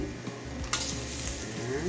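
Half a bar of dairy cream melting in a heated pan, a steady close sizzle and frying hiss throughout the short stretch, with a brief utensil scrape partway through and no talking.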